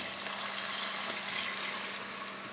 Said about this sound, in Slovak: podlejete vodičkou.